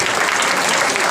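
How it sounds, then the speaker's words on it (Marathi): An audience at an art exhibition event in a Pune auditorium claps in a brief, dense burst of applause, steady and close, with no pauses. "गण्यांचा जरा टाळ्या देत चला"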